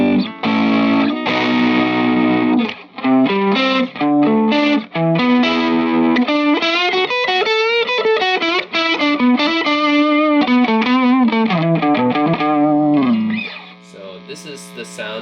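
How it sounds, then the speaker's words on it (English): Electric guitar played through a Maxon OD808 overdrive pedal with the tube stage rolled off, giving a steady driven tone over a run of sustained chords and melodic notes, loud and close, with a brief quieter trailing phrase at the end. "So this is the sound of a Maxon OD808 basically"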